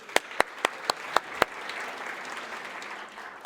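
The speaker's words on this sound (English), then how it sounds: "Round of applause to you all." Round of applause from a data science conference audience: six sharp, evenly spaced single claps near the front open it, then a softer, diffuse wash of crowd clapping carries on steadily.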